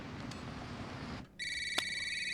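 A telephone in a TV drama rings once with a bright electronic trill after a stretch of low background sound, alone without talk.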